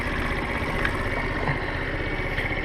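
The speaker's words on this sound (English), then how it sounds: "everything hooked up. It's idling nice." A small 50cc engine with an upgraded carburetor idles steadily with a low, even putter, close by and unchanging throughout.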